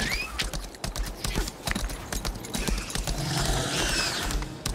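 Quick, steady clip-clop of horse hooves trotting in the video game Lost Ark, fairly close, with a brief whinny-like sound partway through.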